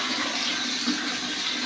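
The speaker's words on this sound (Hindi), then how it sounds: "अब इसको पूरा हिला देंगे और फिर इसका पानी निकाल देंगे" Soapy water pours steadily out of a washing machine's outer drain pipe, a continuous close rushing gush with no voices.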